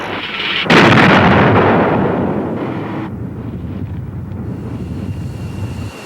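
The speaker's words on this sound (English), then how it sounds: "It is propelled by a rocket and penetrates deep below the runway, exploding moments later." Matra Durandal runway-penetrating bomb detonating: a sudden heavy blast with a long, rumbling roar that slowly fades into low wind-like noise, with no talk over it.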